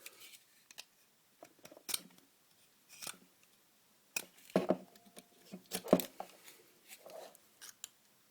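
Scissors snipping through a nylon NATO watch strap whose edge has been melted smooth, a series of separate crisp close cuts with short pauses between, louder clusters in the middle, no talking.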